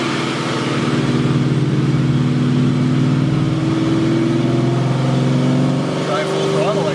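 A race car engine in the Machula build, in a garage, holds a steady revving drone with a rising pitch toward the end, loud and close, with people talking over it.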